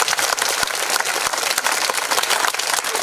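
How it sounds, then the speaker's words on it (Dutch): Outdoor applause for volunteer shepherds at a sheep flock homecoming on the Lemelerberg, a lively crowd clapping with sharp individual claps standing out from a steady, fairly loud patter. "Dus even een groot applaus voor onze headers."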